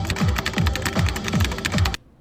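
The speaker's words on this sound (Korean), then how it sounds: "내가 키보드 치는 거 가만히 보니까" Quick rhythmic keystrokes on a computer keyboard while playing a rhythm game, a close run of crisp clicks and thumps in a steady beat lasting about two seconds, then stopping abruptly.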